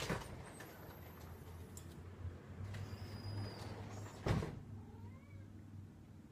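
A cat meows at a door, with one faint, brief cry near the end over quiet room noise and a soft knock or clunk just before it.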